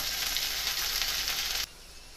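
Okra (bhindi) sizzles as it fries for a dry achari sabzi, a steady bright hiss close up that cuts off abruptly, leaving a quieter low background.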